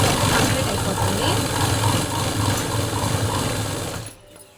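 A sewing machine stitches fabric with a steady, fast mechanical whirring and rapid needle chatter, loud and close, running continuously before stopping abruptly near the end.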